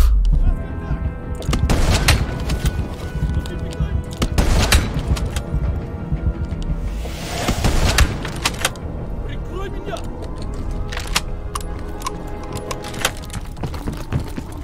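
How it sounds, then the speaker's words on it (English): Gunfire and booming blasts in Call of Duty Black Ops Cold War, Operation Red Circus mission, loud and dense throughout alongside heavy game noise and rumble, with several sharp impacts standing out. "Who is shooting?"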